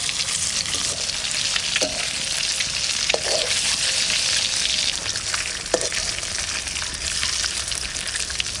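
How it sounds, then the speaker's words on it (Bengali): Eggs frying in hot mustard oil with salt and turmeric, producing a loud continuous crackling sizzle close up, with a few sharp spatter pops and occasional stirring knocks. "ডিমগুলো ভাজা করব, তেল দিয়ে দিচ্ছি"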